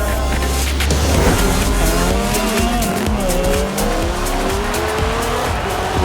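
A racing car engine in Forza Horizon 4 roars and revs through rising gear pitches while tires squeal and skid, loud and close throughout.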